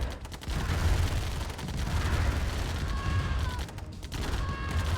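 Turrets blaze away in the real-time strategy game Command & Conquer: Tiberian Dawn, a dense, unbroken barrage of rapid gun and cannon fire rumbling steadily throughout.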